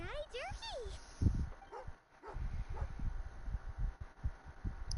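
A dog in the video game Genshin Impact barks a few short times over game music and effects, fairly close and moderately loud.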